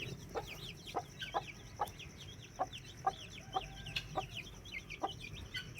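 A caged hen with newly added chicks gives a regular series of sharp, evenly spaced clucks roughly every half second, while the chicks keep up continuous high peeping; no voices.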